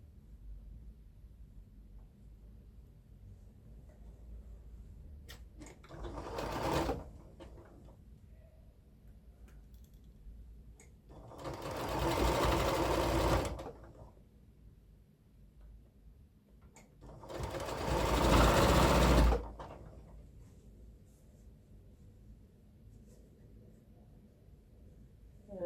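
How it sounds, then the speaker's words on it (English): A sewing machine stitches quilt fabric pieces in three distinct runs of fast, even whirring, the last two longer, with quiet pauses, handling clicks and faint ticking between them. "So I will now sew like this."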